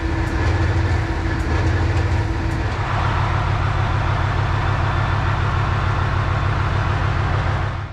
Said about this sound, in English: These locos are known for their noise and smoke levels, with this example definitely living up to that.